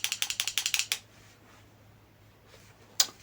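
A Power Plus POWX138 electric stapler-nailer gives a quick run of about ten sharp mechanical clicks close up, then quiet, then one more lone click near the end.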